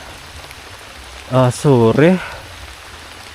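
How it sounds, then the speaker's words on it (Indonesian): Steady rain falls at night in a cemetery, a soft continuous hiss throughout, with a brief burst of someone talking in the middle. "itu hujan terus guys sampai malam ini"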